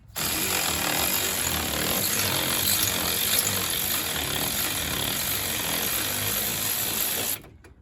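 A loud, steady power tool whirs continuously for several seconds up close while removing bolts during a 2003 Chevy Silverado front wheel hub swap, then cuts off abruptly near the end.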